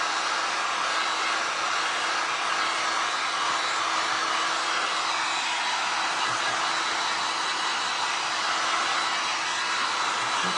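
Hair dryer blowing on freshly painted acrylic colors, a loud, steady whooshing roar that runs without a break from start to finish, with no talking over it.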